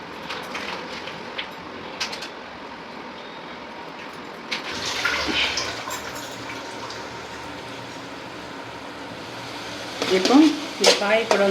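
Eggs frying with beans and other vegetables in a pan, a soft ongoing sizzle broken by sharp scrapes and clatter of stirring, growing louder and busier toward the end.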